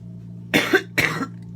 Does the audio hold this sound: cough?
yes